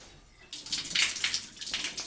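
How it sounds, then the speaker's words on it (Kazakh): Warm water gushes steadily from the tank of a steam bathhouse, starting abruptly and splashing on without pause. The sound is close and fairly loud, with no talking. "Міне су ағып тұр"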